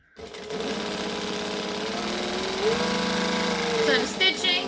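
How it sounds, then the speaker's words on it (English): A sewing machine stitches a crossbody bag seam at a regular stitch length, running in a steady fast whir for several seconds with a brief pitch change as it reverses to back stitch, then stops with a few light clicks. "So I'm stitching, I am back stitching, I am trimming off my tails."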